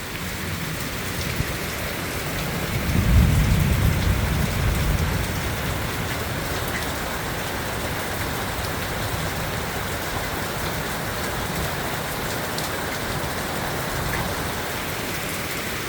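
Steady rain falls on a farm, filling the scene with a continuous broadband hiss of drops on surfaces; a brief low rumble swells around the third second, then the downpour carries on evenly with no voices.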